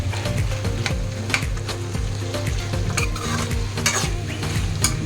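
Canned tuna with its liquid sizzling in a hot pan over raised heat, a steady loud fry with a spoon scraping and stirring in a regular rhythm.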